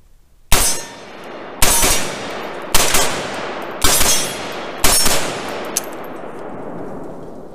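A Palmetto State Armory KS-47 gen 2 rifle on an AR-15 platform firing 7.62x39 rounds: five loud, close single shots at a steady pace about a second apart, each ringing out before the next, then a small metallic clink.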